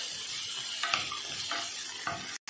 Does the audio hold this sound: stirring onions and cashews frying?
yes